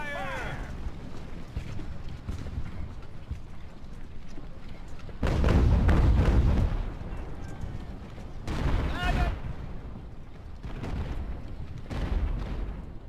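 Cannon fire at rovers in Ultimate Admiral: Age of Sail rumbles in heavy booming volleys, one loud broadside and later fainter rolling salvos, amid a constant battle din.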